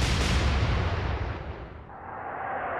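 Naval guns fire in the Atlantic Fleet video game during a Royal Navy battle of the Atlantic engagement, a loud broadband boom that slowly decays and rumbles on for seconds with no voices over it.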